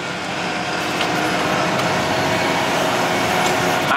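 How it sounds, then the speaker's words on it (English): A two-wheel drive tractor cutting hay in a field gives off a steady, loud engine drone that holds evenly throughout with no pauses. "With this two-wheel drive tractor, especially in these hay fields where there's lots of turns like this"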